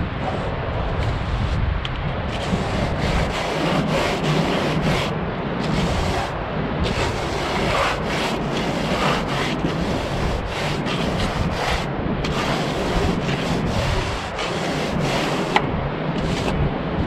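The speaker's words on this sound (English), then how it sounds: "I've actually got a bit of a gap in the render, so I'm going to fill it in, rub it up" A plastering float rubs render into a gap on an exterior wall, making a continuous close gritty scraping in rapid back-and-forth strokes, with no talking.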